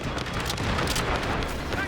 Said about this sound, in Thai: ระเบิดติดเพื่อน